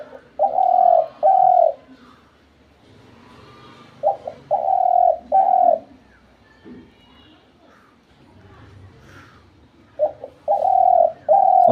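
A decoy bird used for hunting coos in paired, dove-like phrases, close and clear, the calls coming in short bursts with pauses between them and faint background sounds in the gaps.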